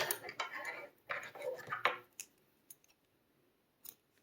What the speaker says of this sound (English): I'm going to cut my yarn off a little bit.